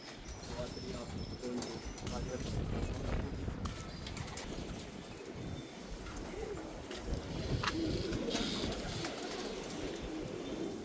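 Pigeons kept on a house rooftop coo in a steady, busy backdrop, with a constant murmur of voices and outdoor noise running throughout.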